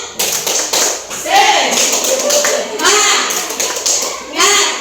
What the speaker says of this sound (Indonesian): marilah kita tepuk semangat